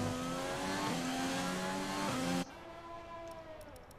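Muffled, dull engine drone of a Formula 1 car in the F1 2020 racing game during qualifying at the Russian Grand Prix, a steady sustained tone that drops sharply in level partway, like a gear change or lift, then continues quieter.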